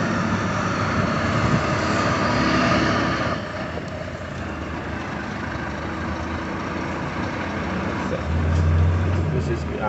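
Heavy truck traffic rumbling past on highway BR 232 near Pesqueira, Pernambuco, a steady loud roar of engines and tyres throughout, with someone talking over it.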